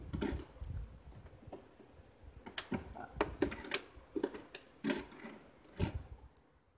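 Hand-stitching a bag from leftover waste clothes with a needle, heard as a run of close, uneven clicks, taps and rustles of fabric at fairly low level.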